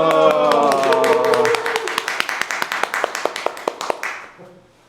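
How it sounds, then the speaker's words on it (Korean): Audience clapping in a church hall as a deacon is invited up at a spiritual-training closing celebration, starting as a dense burst under music and talk, then thinning into a rhythm of single, evenly spaced claps before fading out. "박수!"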